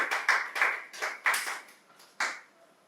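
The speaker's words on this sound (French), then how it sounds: "Acclamons donc pour Jésus, s'il a été béni." A small church audience gives short, uneven bursts of hand clapping, several separate claps in quick succession, fairly close and dry, with no voices over it.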